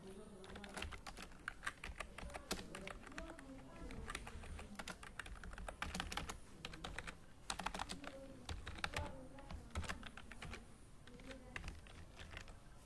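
Fingers type a Fortran program on a computer keyboard, a quiet, steady run of close key clicks with irregular rhythm lasting throughout.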